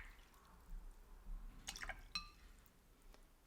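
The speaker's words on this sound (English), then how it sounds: "Wash and rinse my brush." A watercolor paintbrush is swished and tapped in a water jar, making soft drips and small splashes close by, very quiet, with a brief cluster of wet clinks and one sharper tap.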